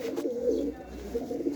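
Soft, low cooing from a pigeon chick of the Teddy breed, repeated throughout at close range, with faint background noise and no talking.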